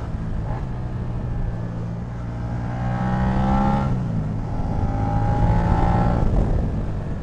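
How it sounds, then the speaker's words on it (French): A Suzuki SV650 X motorcycle engine revs steadily under riding, its tone rising and falling through the revs with broad wind rush, close and fairly loud with no talk. "Ah, le moteur est plaisant, hein. Il prend les tours facilement."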